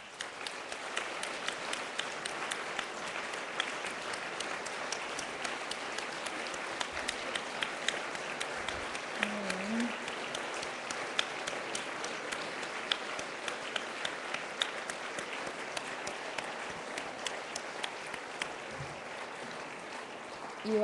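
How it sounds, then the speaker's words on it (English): A gala audience applauding standing donors and recipients, dense continuous clapping sustained for about twenty seconds at an even, moderate level from a large crowd. "Please join me in an applause."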